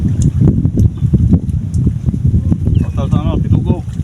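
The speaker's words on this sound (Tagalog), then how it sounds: "malakas po talaga yung hangin" Strong northeast monsoon wind buffets the microphone on a boat at sea during fishing, a loud, continuous low roar in uneven gusts, while someone speaks briefly near the end.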